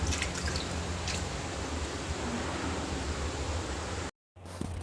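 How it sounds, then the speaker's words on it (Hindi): Water drains from a broken kitchen sink in a home, a dense continuous rushing and dripping close by that holds steady for about four seconds before cutting off abruptly, with no talking. "इसका जो पानी है सारा नीचे जा रहा है।"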